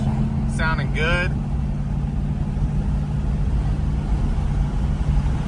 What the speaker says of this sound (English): You hear the exhaust sounding good.